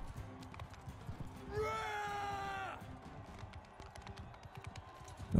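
A horse in Mount & Blade 2: Bannerlord gives a loud whinny amid galloping hoofbeats and battle noise, the neigh standing out briefly in the middle before fading back to clatter.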